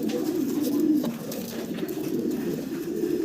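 Large, jumbo-size fancy Andalusian-colored pigeons on a farm cooing steadily in low, throaty rolling calls, several birds close together with continuous overlapping coos and no talking.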